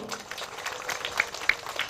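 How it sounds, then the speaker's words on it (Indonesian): A crowd at a Democrat party gathering in South Sorong claps briefly, scattered, fairly faint handclaps with a few sharper claps standing out. "tepuk tangan dulu."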